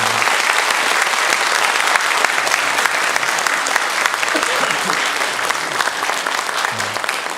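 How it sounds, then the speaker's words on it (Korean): A church congregation at a Sunday morning service applauds loudly as elders come forward to present gifts, a dense, sustained clapping that fills the room. "큰 박수로 여러분 한번 환영해 주시면 감사하겠습니다"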